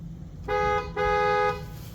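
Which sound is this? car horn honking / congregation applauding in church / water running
car horn honking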